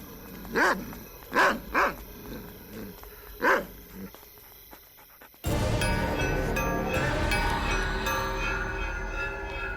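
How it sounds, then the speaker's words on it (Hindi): Four loud dog barks ring out in the first half, spaced irregularly, then a dense, continuous rumbling noise takes over for the rest. "इसका खाना कोई और कुत्ता खा गया होगा, तभी इतना भौंक रहा है।"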